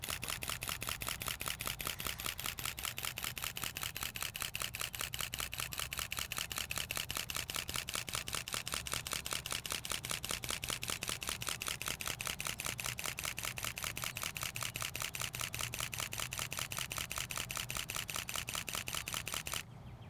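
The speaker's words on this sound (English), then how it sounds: "My finger is still on the shutter button." A Nikon D5500 DSLR fires a continuous JPEG Fine burst, its shutter clattering in a fast, even machine-gun rhythm at close range for about twenty seconds before stopping abruptly, with no talking.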